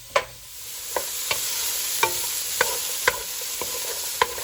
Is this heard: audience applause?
no